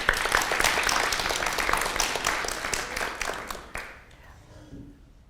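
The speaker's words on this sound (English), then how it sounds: "Please give another round of applause." An audience at a disability-awareness event gives a round of applause, loud and dense clapping for several seconds that thins and fades out toward the end.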